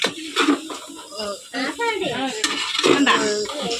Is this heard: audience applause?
no